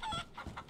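A chicken in the video game DayZ lets out three short, close clucks in quick succession, heard alone.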